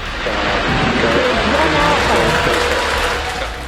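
Applause fills a space center right after a SpaceX Falcon 9 rocket launch: dense, steady clapping from a large crowd with a voice speaking over it throughout.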